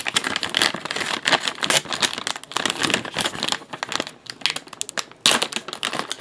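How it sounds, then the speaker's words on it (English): Sticky plastic bags holding baseball cards are pulled and peeled open, giving close, busy crinkling and crackling with rapid rustles and a few sharp ticks, continuous with no talking. "It's hard to get these bags open because they're sticky."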